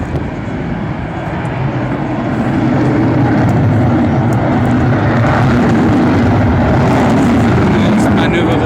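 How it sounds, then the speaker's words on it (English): An F-18 fighter jet flies past with afterburners lit at the Farnborough Airshow 2016, a loud broadband roar that swells after the first few seconds and stays heavy and constant to the end. "The pilot has used the afterburners."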